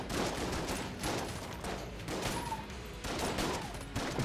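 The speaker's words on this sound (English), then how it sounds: "It helps that it shoots like three shotguns every time" Rapid bursts of video-game gunfire from a weapon that shoots like three shotguns at once in Enter the Gungeon, sounding as a steady run of overlapping blasts of moderate loudness with no talk.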